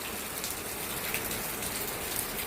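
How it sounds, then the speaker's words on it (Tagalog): Heavy rain pours down in a steady, dense hiss of drops on surfaces, loud and unbroken throughout, with no voices. "ni kusog man ang uwan"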